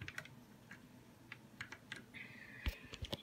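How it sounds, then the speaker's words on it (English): Keys clatter on a Razer keyboard with silver switches, a run of quick, irregular clicks and taps close by, with no talking. "We got this keyboard. It has silver switches right there."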